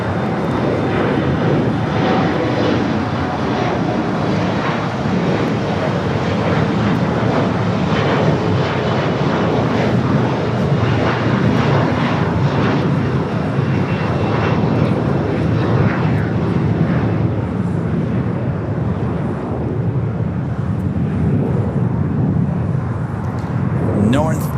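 A Lufthansa airliner moves toward the south side at LAX, its engine rumble continuous and fairly loud, with someone talking over it.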